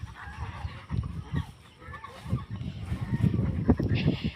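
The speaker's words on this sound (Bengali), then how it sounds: "আমার বিকালের সময় মানে হাঁসের আওয়াজে বেশি শুনবো" Farm ducks at a village duck farm surrounded by river call in scattered honking bursts in the evening, mixed with steady wind noise across the whole stretch.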